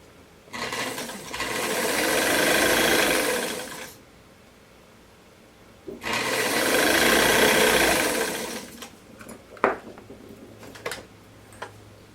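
A sewing machine stitches the facing of a summer dress in two bursts of a few seconds each, a loud, close buzzing run separated by a pause, followed by a few light clicks.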